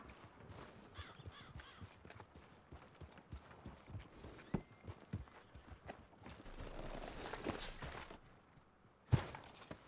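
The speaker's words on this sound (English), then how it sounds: "This is a massive ass horse." Horse hooves clip-clop at a steady walking rhythm in the Red Dead Redemption 2 video game, a large horse moving close by, with a few sharper knocks and a rising rush of movement late on.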